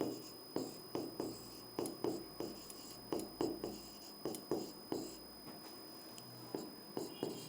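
Someone writes an address on a board in short, scratchy strokes that come close up in a regular rhythm. A faint steady hum sits underneath.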